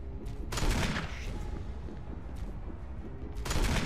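Gunfire from Resident Evil Remake, a few heavy shots with a burst near the start and another at the end, loud and close over a low game rumble.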